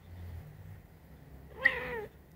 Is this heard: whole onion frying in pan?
no